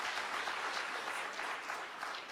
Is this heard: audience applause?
yes